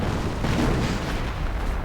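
Sustained battle din from a video game, with gunfire and artillery rumbling continuously at steady loudness and no distinct single shots.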